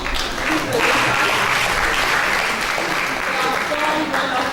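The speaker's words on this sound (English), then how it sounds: "can we give a round of applause for the presenters?" Audience applause for conference presenters at a Thrombosis Day 2020 event fills the room, a dense, steady wash of clapping that stays loud throughout.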